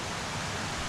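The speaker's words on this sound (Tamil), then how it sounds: "தண்ணி பயங்கரமா ஓடிட்டு இருக்குங்க" Forest stream of water flowing strongly, a steady, even rushing hiss with no voices.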